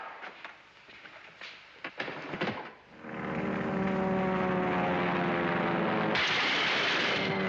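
Propeller airplanes flying overhead in a 1947 war film, starting with scattered thuds and rattles, then a loud steady multi-engine drone that swells and holds, its pitch shifting late on, with no speech.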